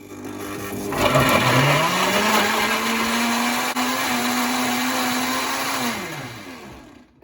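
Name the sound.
whisking a mixture in a bowl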